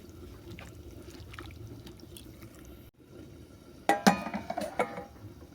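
Chicken is mixed in a bowl with chili powder, turmeric and mustard oil: a low hum at first, then close clinks and wet, squelching knocks in a quick irregular cluster near the end.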